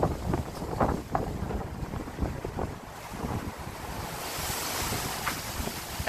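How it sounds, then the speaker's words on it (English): Strong wind roars and buffets the microphone on a cold, rainy mountain, a broad, steady rush that swells in gusts, with no talking. "Wow, it's cold up there, but yeah, see how windy it is?"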